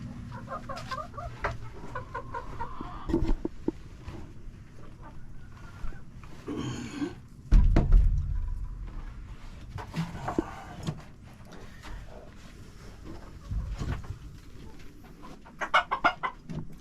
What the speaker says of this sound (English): What's the rooster doing in the hen box?